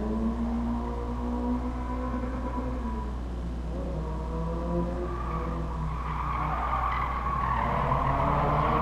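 A Toyota GT86 with a 2-litre boxer engine drives in the racing game GT Sport, giving a steady engine drone with shifting tonal pitch and some tyre squeal, alone and at moderate loudness.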